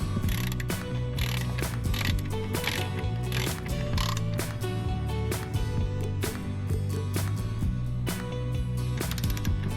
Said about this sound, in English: Lock washers, tighten a quarter inch Allen wrench to 10 foot-pounds.